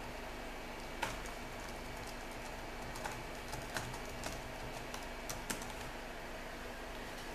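A password being typed on a computer keyboard during an Arch Linux install: a quiet, sparse run of individual key clicks over a steady background hum, no speech.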